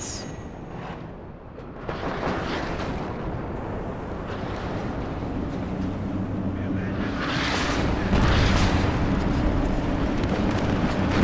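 Heavy Malka artillery salvos boom and rumble in the video game WARNO, building into louder, deep blasts toward the end, while someone talks over the gunfire.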